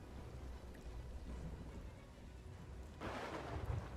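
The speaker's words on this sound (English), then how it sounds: "Lightning strikes." Thunder from lightning strikes at sea in Sea of Thieves: a quiet, wind-like bed, then a sudden broad crack at about three seconds that settles into a low rumble, with no talk.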